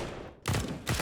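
Gunfire bursts in a Counter-Strike match on the Overpass map: a quieter stretch, then two loud, close clusters of shots, the second following about half a second after the first.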